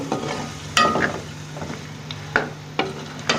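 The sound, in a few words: frying masala with potatoes and meat for Sindhi biryani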